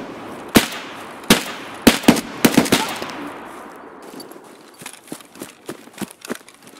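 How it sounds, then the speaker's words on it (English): Gunfire in Escape from Tarkov: several sharp, loud shots ring out at irregular intervals, then a burst of fainter, more distant rapid shots follows. "No, there's a dude shooting me."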